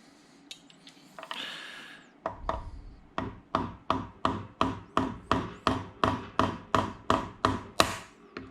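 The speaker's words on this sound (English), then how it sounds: "that metal clasp sound that you're hearing is this piece hitting the block" A metal piece on a 2009 Hemi engine long block clanks repeatedly against the block, a steady run of sharp, evenly spaced knocks at close range following a brief scrape.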